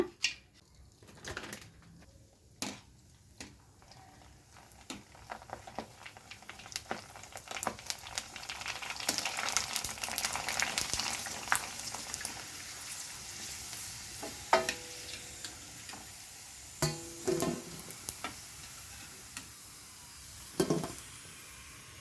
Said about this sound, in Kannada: ಇವಾಗ ಪೂರಿ ಹಾಕೋಣ.